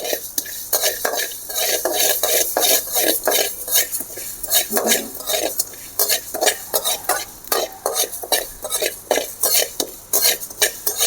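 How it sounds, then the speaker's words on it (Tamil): Mustard seeds and cumin dry roasting in a pan for an onion thokku, with rhythmic scraping strokes of a spoon against the metal and a faint crackle, close and loud. "அடுத்தது கடுகு ஜீரகம் இது ரெண்டையும் வறுக்கணும்"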